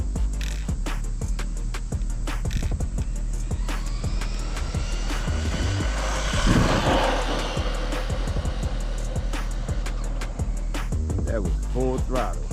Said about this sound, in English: This is my first speed test on this car.